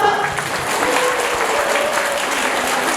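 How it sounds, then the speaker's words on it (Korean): A dense, even wash of clapping fills a hall as an audience greets the host of a special lecture in Gyeongju, steady and close throughout. "박수!"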